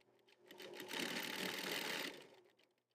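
A sewing machine stitches buffalo leather panels for luggage with heavy-duty nylon thread, running in one continuous rattling burst of about a second that swells and fades, fairly faint and with no talk.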